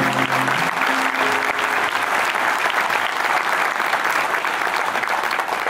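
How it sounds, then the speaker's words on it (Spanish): Loud, dense audience applause at a singer's 25th-anniversary concert, a steady sustained roar of clapping from a large crowd, briefly overlapped by a low tone at the start. "Fuerte el aplauso para él también."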